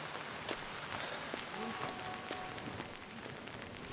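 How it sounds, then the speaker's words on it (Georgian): Rain falls in Ozurgeti, Georgia, a quiet steady patter on surfaces with occasional sharper drips and clicks, heard at a distance. "ესეც ოზურგეთი წვიმს."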